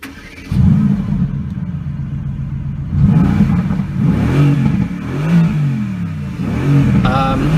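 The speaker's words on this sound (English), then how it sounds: "That's the AMG GTS, and we'll take it for a spin." Mercedes AMG GTS with its bi-turbo engine pulling hard under acceleration, a loud, close rumbling drone that rises and falls through several gear changes for the whole stretch.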